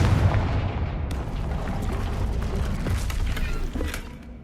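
Confringo blasting spell from Hogwarts Legacy, a heavy rumbling boom with crackling debris that holds loud and dense throughout before easing off at the end.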